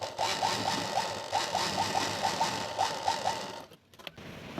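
A sewing machine runs steadily while stitching the seam of a blouse, with a rapid, even mechanical chatter and short repeated bursts. The sound is close and loud and stops briefly near the end.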